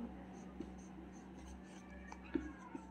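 Pen writing on paper while working a physics problem, faint scratchy strokes and small taps under a quiet voice, close but low in level.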